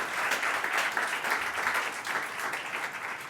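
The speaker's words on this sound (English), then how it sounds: "Let's give that a big round of applause." Steady applause from an audience at a university event celebrating a rehabilitation and musculoskeletal health centre, even and moderately distant.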